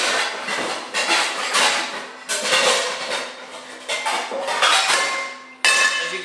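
Heavy-duty industrial-strength Swiss-made Spring pans clank and clatter onto a kitchen stove in several loud, close metallic knocks and scrapes, with no talking.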